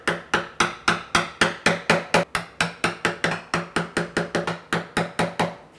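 Chipping waste from a half-blind dovetail socket with a knife: about twenty crisp, evenly spaced taps, close and steady, with no talking.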